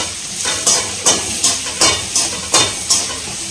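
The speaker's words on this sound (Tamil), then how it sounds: "வெங்காயம் வதங்கட்டும்." Onions fry in a pan for rava upma, a steady sizzle broken by regular scraping stirs about every third of a second apart, close and loud with no talking.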